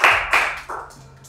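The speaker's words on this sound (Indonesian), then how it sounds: "Tepuk tangan buat Pak Anies." Brief bursts of audience clapping for Anies Baswedan at a talk event, a few loud surges that quickly fade, with no talking over them.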